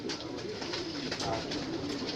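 A pigeon coos softly over a steady background hum, low murmuring calls repeating a few times at moderate distance.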